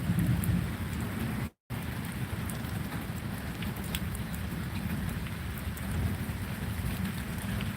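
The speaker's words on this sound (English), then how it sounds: "I hear the thunder rumbling right now." Steady tropical storm rain pours in Florida with a low, continuous rumble of distant thunder underneath, broken only by a brief moment of silence.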